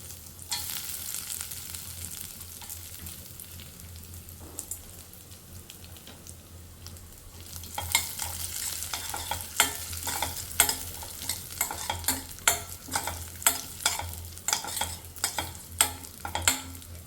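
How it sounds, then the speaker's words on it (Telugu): Dry fruits frying in ghee over medium flame, a steady sizzle that turns into a run of sharp crackles and pops with stirring scrapes, close and fairly loud, no talking. "మళ్ళీ 2 స్పూన్స్ అయితే గీ వేసుకొని డ్రై ఫ్రూట్స్ అయితే ఫ్రై చేసుకున్నాం."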